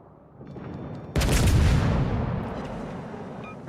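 A single loud gunshot blast in a shooting video game cracks out after a quiet stretch of low rumble, followed by a long decaying boom that fades over the next two seconds.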